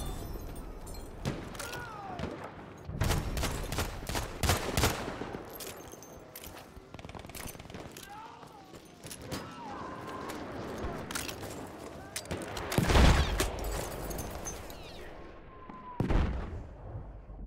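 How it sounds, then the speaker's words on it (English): Enemy machine gun fire and other gunshots crackle through a Battlefield 1 battle: rapid bursts and heavy single shots with a thumping blast near the end, while voices shout over the steady din of combat. "Enemy machine gun!"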